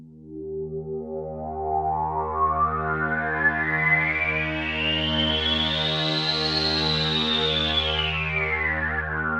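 A Roland Jupiter-8 synthesizer preset with dispersion and pan spread plays a sustained chord whose filter sweeps bright and then closes, thick and chorused, loud and steady with no voices.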